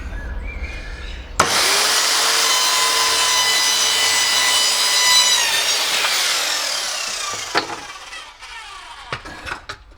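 A power saw cutting through a wooden baseboard for an OO gauge model railway layout, a loud steady whine and rasp running for several seconds, then spinning down with a few knocks and handling sounds afterward.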